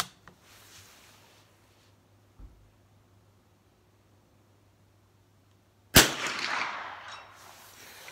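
A single sharp rifle shot cracks out near the end during Winchester 75 ammunition testing at 50 yards, followed by a short rushing decay, after a long quiet stretch with faint low hum and one soft thump.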